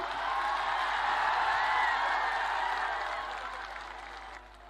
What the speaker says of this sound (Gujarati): આપણે આવકારીએ છીએ તાળીઓના ગડગડાટની સાથે